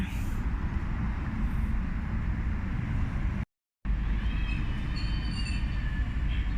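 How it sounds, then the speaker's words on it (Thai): A train passes close by, a loud continuous rumble of wheels on rails with low-frequency roar and some high wheel squeal, interrupted by a brief dropout before resuming. "รถไฟไม่ได้ไปบ้านเรา ออ รถไฟไปในเมือง"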